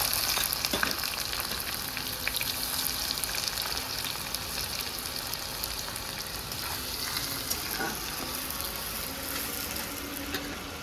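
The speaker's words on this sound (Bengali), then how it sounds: "এবার আমি কুচানো পেঁয়াজগুলো এতে দিয়ে দিলাম" Chopped onions dropped into hot oil with crushed garlic already browned, a soft, steady sizzle with occasional stirring taps, moderately quiet and close, no speech.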